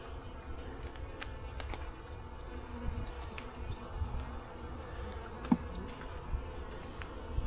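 Honey bees buzzing around an open beehive during an early spring inspection, with low colony population; a faint, steady hum of many insects with scattered soft clicks, no voices.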